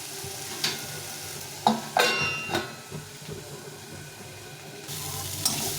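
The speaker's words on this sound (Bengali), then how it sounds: "এই গাজর আর বাঁধাকপিটা ভাজা হয়ে গেছে" Carrot and cabbage frying in a pan for veg chowmein, a continuous sizzle broken by several sharp scraping and clattering stirs of a utensil, all close and without talk.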